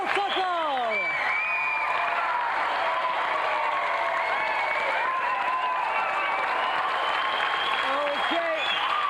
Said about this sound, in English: let's have another round of applause for a true Christmas champion